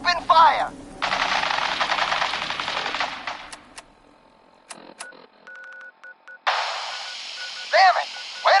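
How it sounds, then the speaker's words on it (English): Soldiers in a video game open fire with a long burst of rapid automatic gunfire, loud and close, followed by scattered electronic beeps and more bursts, with spoken game dialogue around it. "Men, open fire."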